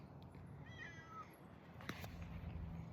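A small cat outdoors in the cold gives a short, rising meow, faint and close, over steady low background noise.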